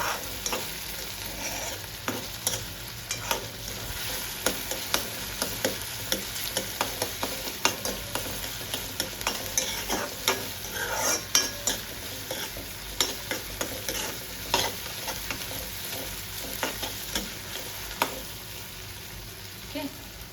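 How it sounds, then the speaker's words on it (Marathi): Ingredients fry and sizzle in a pan for masala Maggi noodles while a spoon stirs and knocks against the metal in frequent close clicks over a continuous hiss, with no voice. "थोडंसं फ्राय झालं की आपण टाकणार आहे मसाले"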